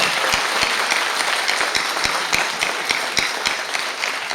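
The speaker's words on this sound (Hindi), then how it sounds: "जोरदार तालियां, तालियां, जोरदार तालियां।" Applause from a seminar audience at an agro company event, a steady dense wash of many hands clapping with a few sharp louder claps standing out, moderately loud throughout.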